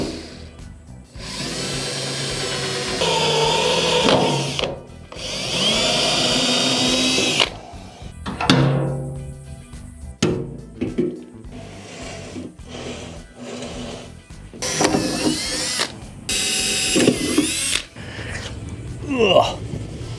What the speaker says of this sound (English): I've already marked out where I want to drill my holes for the fasteners.